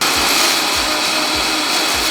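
A blender grinds coconut sugar into powdered sugar, a loud, steady whirring motor roar held close and alone, with faint rhythmic thumps of the contents inside.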